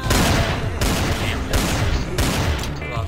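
Rapid video-game gunfire from Roblox Jailbreak crackles in dense, loud bursts, near and continuous with short breaks, dominating the sound.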